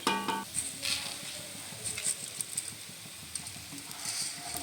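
Lentils fry and get stirred in a pan for khichuri, cooked as a temple offering for a neighbourhood puja. A soft, constant sizzle runs beneath light, irregular scrapes and clinks of a spoon against the vessel.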